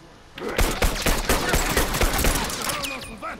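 Rapid automatic gunfire in the video game The Last of Us Remastered, a dense, loud burst of overlapping shots lasting about three seconds, with echoing tails and a faint voice underneath.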